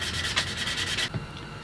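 Hand sanding along the edges of wooden coasters cut from a failed guitar body, a steady rasping rub in quick back-and-forth strokes that stops abruptly near the end.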